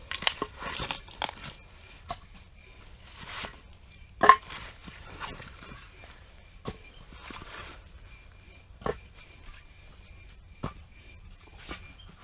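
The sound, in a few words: handling and stacking firewood beside tent stove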